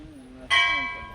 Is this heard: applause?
no